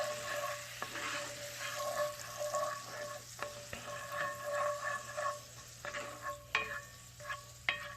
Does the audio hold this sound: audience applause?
no